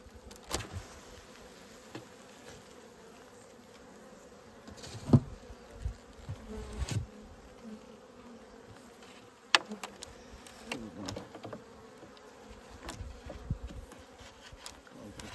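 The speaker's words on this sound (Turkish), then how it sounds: "Arı salkıma geçmiş arkadaşlar." A continuous low hum of many Carniolan honeybees clustered inside a hive in early November, close and steady, with occasional soft knocks and scrapes.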